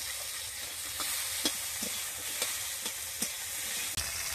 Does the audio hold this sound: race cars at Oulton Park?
no